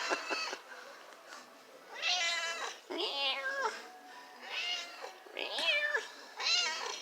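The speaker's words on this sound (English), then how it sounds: "Kitty, kitty, kitty, kitty." A cat meows repeatedly outside the Church of the Holy Sepulchre in Jerusalem, a string of close, loud, drawn-out calls with short gaps between them, sounding almost like singing.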